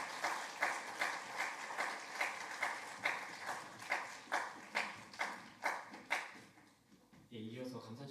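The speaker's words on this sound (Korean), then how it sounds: "박수로 감사의 말씀 하겠습니다." A faint, slow, evenly spaced clapping in unison rises and falls at a university chapel service, fading near the end as a voice begins to speak.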